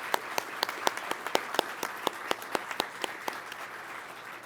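A graduation audience at an Air Force pilot training ceremony claps for instructor pilots, a moderately sized room of steady applause with distinct individual claps standing out, gradually easing off.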